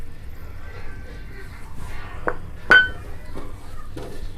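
Metal spoon clinks and scrapes against a pot as garam masala and black pepper are stirred into a beef aloo qeema, dhaba style; a few sharp taps stand out over a low, steady background.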